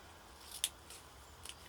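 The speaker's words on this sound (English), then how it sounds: "And then we just want to take some scissors" Scissors snip through craft card in a few quiet, crisp cuts, close and faint against a silent background.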